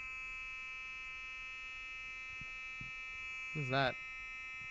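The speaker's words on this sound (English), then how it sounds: "Fire alarm's going off, folks." A steady electronic fire alarm tone drones continuously in the background while a person briefly speaks a short question near the end.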